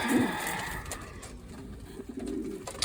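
Young pigeons, squabs in a loft, give low cooing and soft burbling calls, one louder coo at the start, then quieter murmurs and rustling. Nobody speaks.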